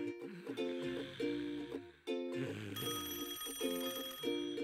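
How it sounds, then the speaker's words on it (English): Telephone ringing in a children's construction cartoon about a tractor and a tow truck: a bright electronic ring in repeated bursts, with brief pauses between them, close and clear. "Wakey, wakey! You have a phone call."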